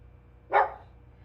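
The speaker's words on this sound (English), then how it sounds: "you can probably hear my pug barking in the background" A single short bark from a pug, moderately loud and a little distant, standing out against a quiet background.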